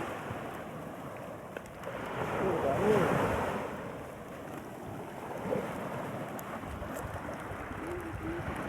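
Ocean waves wash onto a seashore where fishermen work, a steady broad surf roar with a swell of louder breaking water midway, mixed with wind noise on the microphone and no talking.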